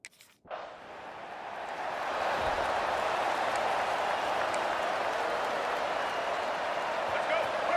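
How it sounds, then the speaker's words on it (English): Stadium crowd roar in an EA Sports college football video game, Miami Hurricanes against Ole Miss Rebels, starting abruptly and swelling into a loud, sustained wash of cheering that holds steady throughout. "Listen to the crowd energy here in the early going."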